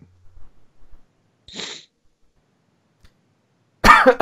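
A single short sneeze in otherwise near silence, followed moments later by a louder vocal burst.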